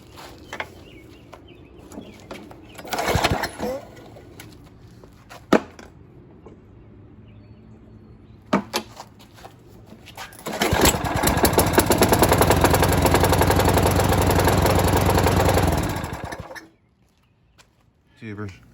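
A well-worn Toro Personal Pace lawn mower engine with a new recoil rope sputters briefly, then roars into a loud steady run for several seconds before cutting off abruptly; scattered knocks and clatter around it.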